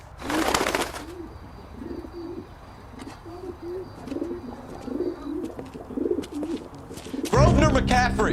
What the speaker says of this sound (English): Drunk and in command of a carrier pigeon.